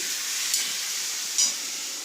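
Papaya pieces with salt hiss steadily in a frying pan, a constant close sizzle with two brief soft scrapes of stirring, no voices.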